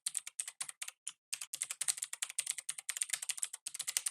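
An email address is typed on a computer keyboard, with quick close-up clicking keystrokes in irregular bursts, a short pause partway, then steady rapid typing with no talking.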